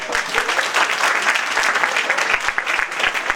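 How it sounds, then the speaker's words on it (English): An audience gives a big round of applause at a lecture for a professor: dense, steady clapping from many hands fills the whole stretch at a fairly loud, even level. "let's welcome Professor Joy Shen with a big round of applause"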